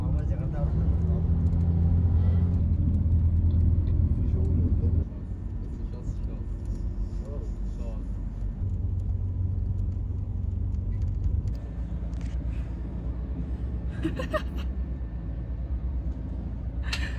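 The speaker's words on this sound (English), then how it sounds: "Made it onto the bus." A bus drives along a coastal road beside the Red Sea in Hurghada, with a steady low engine rumble and road noise throughout, easing slightly partway through, while people talk over it.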